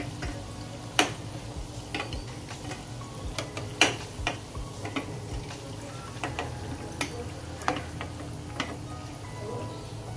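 Small bottle gourd (dudhi) bhaji fritters fry in hot oil with a steady crackling sizzle, punctuated by sharp clicks and taps of a spoon against the pan at irregular intervals.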